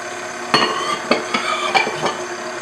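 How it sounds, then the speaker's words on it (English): Cupcake batter with vegetable oil and eggs gets mixed in a bowl, a scraping stir broken by four or five distinct clinks of the utensil against the side. "And I'm going to mix it up at this point."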